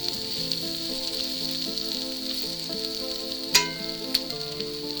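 Home fries with onions frying in a pan over a medium-low burner, a steady even sizzle with one sharp utensil clack near the end, close and uninterrupted by voices.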